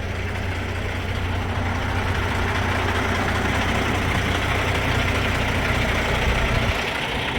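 A semi truck's heavy diesel engine idles steadily in a low, continuous rumble, close and constant, with no talking heard over it.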